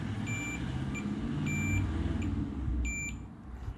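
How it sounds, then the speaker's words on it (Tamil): A multimeter's continuity tester beeps while probing capacitors on a laptop motherboard during chip-level repair, giving several short, shrill tones at irregular intervals over a low room hum. "எல்லாமே பீப் சவுண்ட் வருது."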